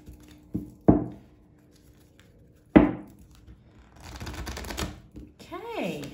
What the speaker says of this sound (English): Full moon in Libra as I cut the deck.